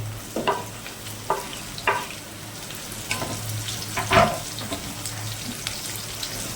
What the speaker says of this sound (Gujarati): કંટોલા બરાબર આપણે તેલમાં ફ્રાય કરી લેવાના ચાર પાંચ મિનિટ સુધી